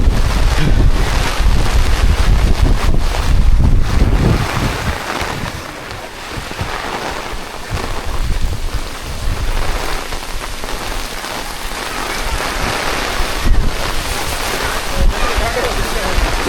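Heavy rain pours steadily at the Pavagadh Mahakali temple, a dense, loud wash hammering a nearby umbrella with gusty wind buffeting the microphone throughout.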